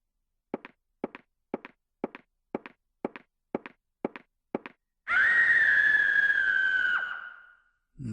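A sudden loud shriek from the horror game Clock Tower: The First Fear rings out alone for about two seconds, then fades. It follows a steady run of nine evenly spaced footsteps.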